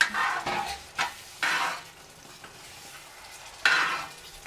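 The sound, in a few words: stirring chicken curry with added chicken stock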